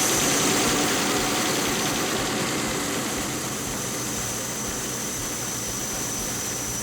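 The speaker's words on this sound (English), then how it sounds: "go in the vehicle, start it up, and make sure everything stays in its place" A 1998 Land Rover Discovery with the 4.0 engine idles steadily in a work area, a constant low, even running sound with no talking over it.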